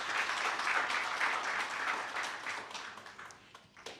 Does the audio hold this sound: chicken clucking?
no